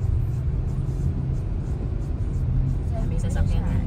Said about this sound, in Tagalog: May sasakyan na.